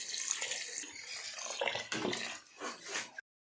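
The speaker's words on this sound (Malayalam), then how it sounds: "ശേഷം വെള്ളം ഒഴിച്ചു കൊടുക്കും കേട്ടോ." Water pours into a cooking pan holding a sweetened chilli chicken masala, a short splashing gush that swells and trails off over a few seconds before stopping sharply, close and quiet.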